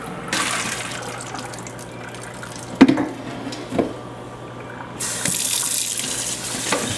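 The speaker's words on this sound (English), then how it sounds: "you just kind of rinse it off good, and you take a little bit of time in your hands and just rub it together" Nixtamalized corn rinsed under a running tap at a sink, water rushing steadily, with some hand-rubbing knocks and splashes, then louder, brighter flow toward the end.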